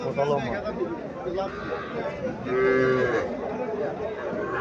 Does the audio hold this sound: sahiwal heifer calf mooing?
yes